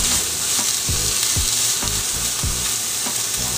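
Fennel fronds and fennel seeds sizzle steadily in a pan over lowered heat, a dense continuous frying hiss broken by a few soft, regular stirring scrapes, close and alone without any voices.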